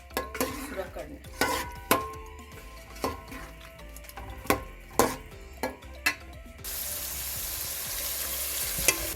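Onions fry gently over low heat in a pan, a soft steady sizzle broken by repeated clinks and scrapes of a spoon stirring, ending in a brighter, hissier sizzle.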